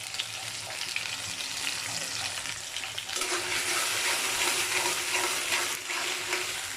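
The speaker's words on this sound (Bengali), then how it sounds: "এই মশলাটাকে ভালোভাবে কষাবো আমি" Spices and potato fry in a pan at home while chicken waits to be added, giving a steady broadband sizzle throughout that grows a little louder and harsher partway through, with no talking.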